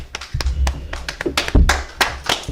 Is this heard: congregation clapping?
yes